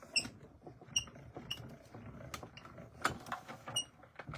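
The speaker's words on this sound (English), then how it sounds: "Put my other piece over it, my other plate, and just use my squeaky machine." A squeaky die-cutting machine presses plates for card making, giving a string of high, sharp squeaks and creaks at a roughly regular pace, close and fairly quiet with no talking.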